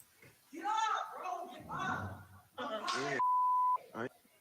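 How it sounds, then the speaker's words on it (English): A steady single-pitch censor beep cuts in for about half a second in the middle of a person's speech. "Did y'all hear that beep?"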